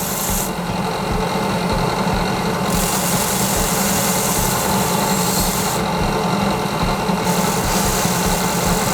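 A soft sanding flap wheel grinds the edges of wooden tree slices for a nativity crib, a continuous loud rasping rub over a steady motor drone, with no pauses.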